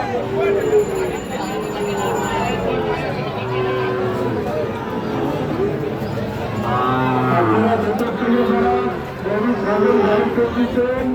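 Sahiwal cattle and bull calves at a busy livestock market, lowing and mooing repeatedly and loudly, close by, over a steady crowd babble with people talking throughout.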